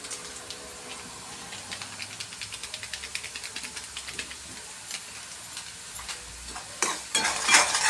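Masala with Kashmiri chili powder fries in a pan for paneer masala, a steady close sizzle under quick rhythmic scraping strokes of a spoon, growing to a louder hissing burst at the end, no voices.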